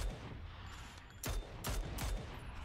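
Gunfire in the video game PUBG during an esports match: three sharp, loud shots spaced about half a second apart ring out over steady background noise, with no talk.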